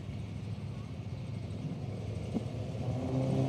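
A VF Commodore hardtop and a Commodore station wagon idle and rumble at Willowbank Raceway drag strip, a low steady engine drone with a light rise near the end, moderately distant.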